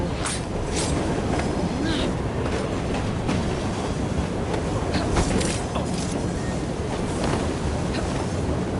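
A moving train in the video game Assassin's Creed Syndicate rumbles steadily with a dense, continuous clatter of wheels and carriage noise, loud and close throughout, with voices speaking over it.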